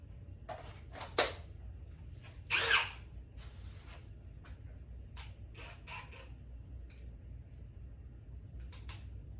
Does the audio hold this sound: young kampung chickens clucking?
no